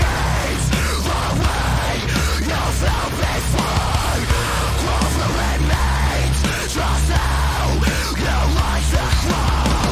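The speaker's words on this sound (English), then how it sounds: "they detuned that one string all the way down to B" Dense, heavily distorted playing on a guitar with its low string detuned down to B, as from a very low-tuned band, loud and continuous with thick low end and rhythmic chugging across the whole stretch.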